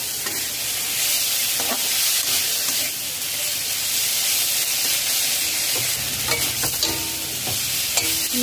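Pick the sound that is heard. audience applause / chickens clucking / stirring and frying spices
stirring and frying spices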